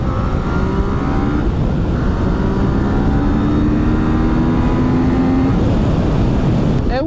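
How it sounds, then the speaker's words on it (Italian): A 2018 Yamaha Tracer 900 with stock exhaust revs up and down repeatedly, loud and close, with a rumbling exhaust note throughout. "ha lo scarico originale, ma devo dire che pensavo facesse molto meno rumore, invece ha un sound veramente bello."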